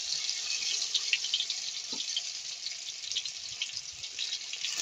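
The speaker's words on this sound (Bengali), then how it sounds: "তারপর লতিগুলো নামিয়ে ধুয়ে রাখছি।" Tap water runs steadily into a sink as cut taro stolons are rinsed, a continuous hissing flow with a few faint clinks, no voices.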